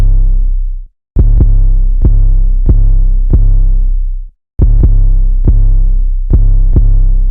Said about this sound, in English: the 808 plays this really basic loop.